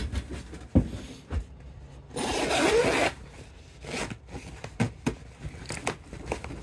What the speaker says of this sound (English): Most of the zippers don't work.